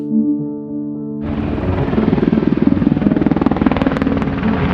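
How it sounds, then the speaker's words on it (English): Two Black Hawk military helicopters lift off from an airfield at night, their steady, loud rotor chop and turbine whine rising abruptly after a brief musical passage and continuing in a dense, pulsing roar. "2 Black Hawk helicopters, equipped with secret stealth technology, take off from Jalalabad airfield"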